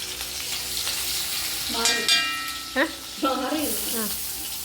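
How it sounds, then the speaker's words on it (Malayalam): Continuous sizzle of ginger, garlic and green chillies frying in coconut oil in a pan, with a person briefly speaking over it, the crackle staying steady throughout. "കുറച്ച് വെളിച്ചെണ്ണ ഒഴിച്ചിട്ടുണ്ട് ഞാൻ അതിലേക്ക് ഓരോ സാധനമായിട്ട് ഇട്ട് കൊടുക്കുന്നുണ്ട്"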